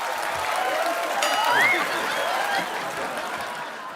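A studio audience on a comedy talk show applauds loudly and steadily throughout, a dense, continuous wash of clapping with a few whistles on top.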